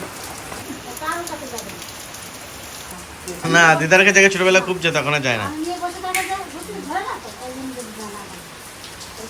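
A heavy downpour keeps up a steady patter of rain while people talk close by, several voices rising and overlapping over the constant wash of falling water.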